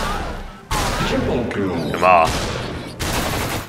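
In the zombie shooter game The Walking Zombie: Dead City, a shotgun fires in sharp, loud bursts that start abruptly at a few points in the clip. Someone talks excitedly over the shots.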